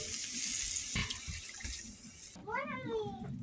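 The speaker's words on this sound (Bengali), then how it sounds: "জল দেবো" Water pours into a mustard pomfret fish curry on the stove with a steady, close hiss for a couple of seconds. A cat meows briefly right after.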